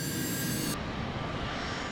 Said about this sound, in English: Captain Morwood performs a brief engine run-up, heating the engines to rid them of any accumulated snow and ice.